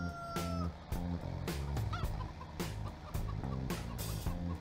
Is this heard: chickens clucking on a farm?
yes